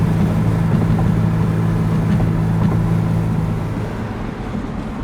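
A 2019 McLaren 570S Spider with its roof down cruises in track mode, a steady low engine hum inside the cabin that eases off toward the end.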